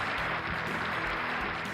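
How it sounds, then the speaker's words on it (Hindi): Audience applause welcoming a guest speaker to the stage at an Atomy business seminar, a steady, dense wash of clapping from a hall crowd that holds evenly for under two seconds. "जोरदार तालियों के साथ सर का स्वागत किया जाए"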